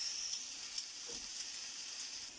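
Seared beef sizzles in a hot pan, a steady bright hiss of fat and steam that holds evenly throughout with small pops, close and without voices.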